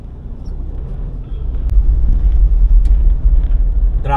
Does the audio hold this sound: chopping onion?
no